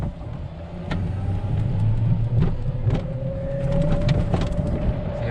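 A vehicle pulls away at full throttle, its engine rumbling and a rising whine climbing steadily over several seconds, loud and close with a few sharp knocks along the way.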